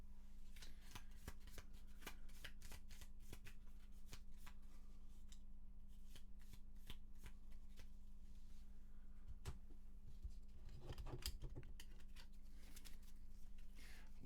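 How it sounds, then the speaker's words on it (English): Cards for the Gloomhaven board game are shuffled by hand close by, a quiet series of crisp riffling bursts and soft slaps with brief pauses between them, against a faint steady hum. "Love it when I have to shuffle everything."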